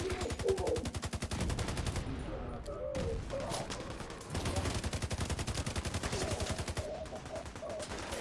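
Sustained video game gunfire, with rapid automatic bursts rattling almost continuously at a steady, loud level and only brief dips between volleys.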